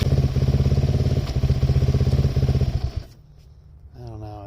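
Suzuki LTZ400 quad engine idling while running lean, a close, rapid uneven putter that chugs loudly for three seconds before cutting out, leaving faint background noise with a voice at the end.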